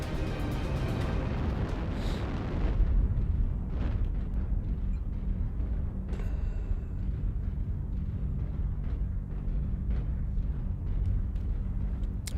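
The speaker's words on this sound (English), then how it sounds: "That's a whole lot of gunfire." Gunfire and explosions in the video game MechWarrior Online, a dense barrage of heavy booms and bursts with a loud blast near the start, then continuous rumbling fire and scattered sharp shots throughout.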